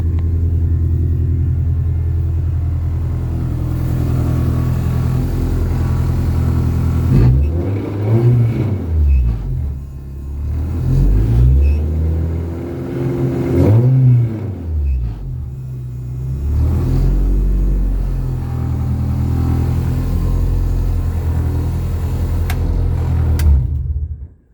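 A Mercedes Sprinter van's engine, fitted with a new quieter muffler, rumbles steadily and swells through several rev rises, a deep, loud drone running continuously with no talk.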